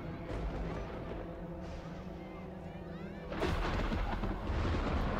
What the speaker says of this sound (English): Storm of some kind, it seems.